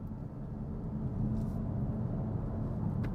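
A Kia XCeed facelift hatchback accelerating under power, a low steady engine rumble heard from inside the cabin that builds slightly in the second half.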